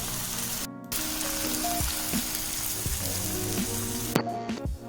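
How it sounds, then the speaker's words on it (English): Masala-coated Mangalorean fish fries in oil in a pan, giving a steady sizzle with scattered sharp pops and spits of oil, close and fairly loud. "keep adding oil from time to time so that fish doesn't dry out and fries well"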